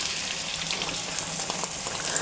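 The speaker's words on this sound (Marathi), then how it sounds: "आता त्याच्यामध्ये 3 मोठ्या आकाराचे कांदे एकदम बारीक कापून फ्राय करून घ्यायचे" Finely chopped large onions frying in hot oil for a coconut-milk chicken rassa curry, a steady dense sizzle heard up close and alone, with faint crackles throughout.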